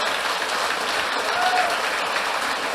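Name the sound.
church congregation applauding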